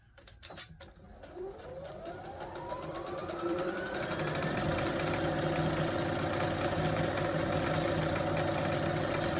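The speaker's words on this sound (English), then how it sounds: "you're going to sew it down, again using a 1/4 inch seam allowance and a straight stitch" A sewing machine runs a straight stitch with a quarter-inch seam allowance along a pants pocket. Its motor whirs up over the first few seconds, then holds a steady, close, continuous drone with no talking.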